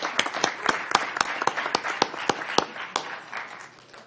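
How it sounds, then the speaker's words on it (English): Scattered hand claps ring out at a county board of supervisors meeting, a sparse round of applause with distinct individual claps spread over about four seconds, fading toward the end. "Let's give one more round of applause."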